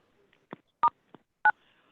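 Telephone keypad tones dialing star six to unmute on a Zoom call, four short separate beeps spaced irregularly over about two seconds, clear and close against silence.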